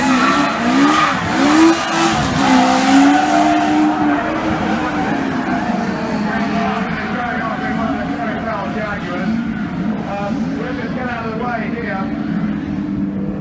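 A racing car engine at the Goodwood Festival of Speed roars loudly and without a break, its pitch sweeping up and down as it revs, with a harsh, dense roar throughout.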